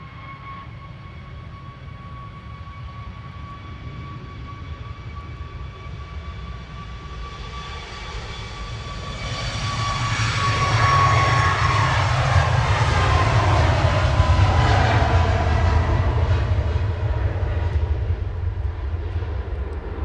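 A Qatar airliner on approach at Manchester Airport, its jet engine whine and roar swelling as it passes close overhead, then a sustained broad rumble that fades slightly, with no talking.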